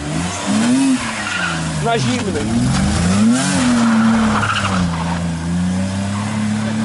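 An old BMW engine fires up from cold and revs, its engine note rising and falling in loud swooping waves close by, with a voice speaking over it.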